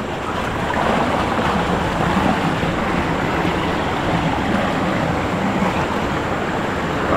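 A river in the Konkan countryside flows steadily during a crab-catching outing, its current a close, continuous rushing wash that holds an even level throughout, with no voices over it.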